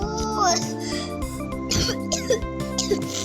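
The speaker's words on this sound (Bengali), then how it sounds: "আমার একটু কাশি লাগছে ভাই" A person coughs in a short burst near the middle, under continuous tonal electronic game sounds.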